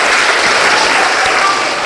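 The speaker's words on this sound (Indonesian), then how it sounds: "Oke, tepuk tangan semuanya." A class of vocational high school students claps together in a classroom, a dense, steady burst of applause that stays loud and even for about two seconds with no talking.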